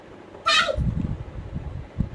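A single short cat meow rings out clearly, followed by low rumbling background noise and faint indistinct voices indoors.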